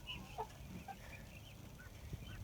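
A small flock of Barred Rock chickens clucks softly in a pen, with scattered faint clucks and chirps over a low, steady background rumble.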